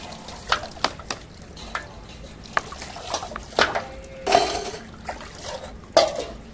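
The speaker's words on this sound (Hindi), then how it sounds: "एक बर्तन साफ कर लूँ" Dishes, pots and utensils are washed under running water, with faint trickling and a scattering of sharp clinks and knocks of metal and crockery at irregular intervals.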